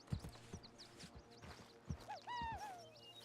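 Horse hooves clop in a few uneven steps at close range in Red Dead Redemption 2, and a horse gives a short, high whinny partway through.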